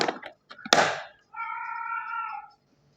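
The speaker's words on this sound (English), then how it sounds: "my cat is saying thank you." An old female cat meowing close by, a few short chirps followed by one long drawn-out meow, in a quiet room.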